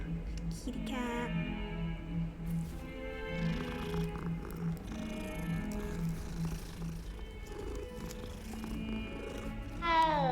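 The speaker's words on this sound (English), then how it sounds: "Aww, kitty cat." A cat purring in the Hogwarts Legacy video game, a steady low rumbling purr with a few soft meows, heard under game music and light ambient sound for several seconds.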